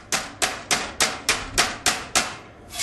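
A hammer strikes heated, heat-treated metal on an anvil in a traditional farm smithy, about nine sharp ringing blows in steady rhythm, close and loud, with no talk.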